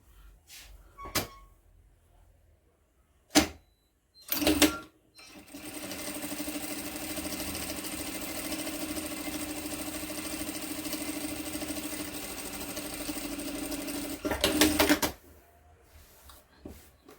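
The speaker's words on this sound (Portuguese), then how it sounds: "agora eu vou passar uma costura bem aqui em cima" A sewing machine stitches a seam across an embroidered cloth diaper in one steady, even run of about eight seconds, framed by a few sharp handling clicks and knocks before and after in a quiet room.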